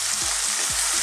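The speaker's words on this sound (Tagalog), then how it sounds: "Parang stir fry lang po ito." Carrots and tomatoes stir-fried in a pan, a constant loud sizzle with two or three quick scraping stirs, close and without talk.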